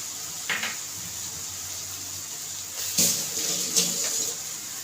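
Hands rinsed under a running kitchen tap, a steady stream of water with brief splashes and clatter as the hands move through it, close and alone.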